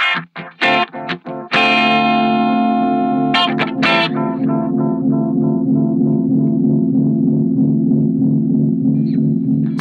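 A Boss DM2 delay pedal echoing a guitar: a few quick plucked notes, then a sustained chord whose repeats ring on and slowly decay into a long, loud, smeared tail.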